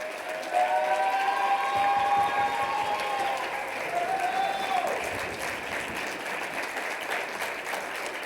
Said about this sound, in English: ladies and gentlemen, one more round of applause for everybody.